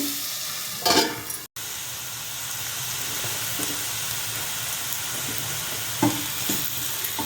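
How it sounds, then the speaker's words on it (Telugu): Browning food in a pan over a low flame is stirred with a steady soft sizzle, broken by a few scraping strokes of the spoon and a brief dropout, heard alone without talking. "అది సిమ్లో పెట్టి కలుపుతూ ఉన్నాము"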